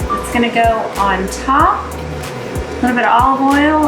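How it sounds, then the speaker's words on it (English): An air fryer runs in a home kitchen with a steady, even whir, while a person talks over it and cooks a vegan zucchini lasagna. "You can probably hear the air fryer in the background."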